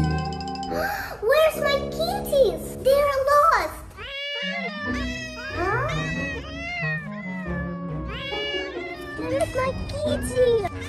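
A domestic cat meows repeatedly in drawn-out, rising and falling cries, loud and close, with brief pauses and children's voices talking around it.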